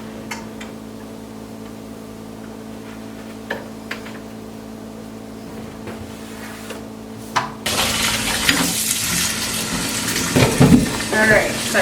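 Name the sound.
water running in sink while rinsing and scrubbing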